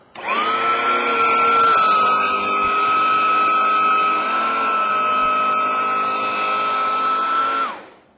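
A vacuum cleaner's brush roll runs loaded down on heavy frisee carpet, a loud, steady high-pitched motor whine that spins up, holds for several seconds with a slight dip under load, then cuts off, with no talking.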